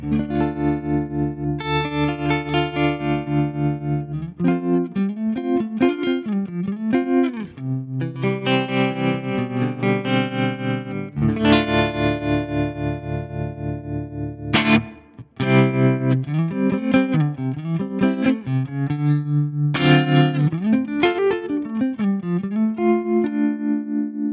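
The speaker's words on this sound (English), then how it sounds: "I love the way the bias trem sounds." An electric guitar through a Fractal FM9 bias tremolo effect plays sustained, effect-laden notes with a pulsing, wobbling tremolo and gliding pitch, with no voices throughout.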